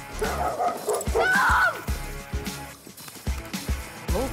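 A dog barks in a string of short, close woofs and yips, with a few whimpering whines mixed in between the barks.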